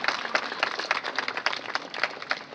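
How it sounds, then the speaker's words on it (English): An audience at a grand opening ceremony bursts into dense, steady applause, many hands clapping at once with no break for the whole stretch. "A big round of applause for them."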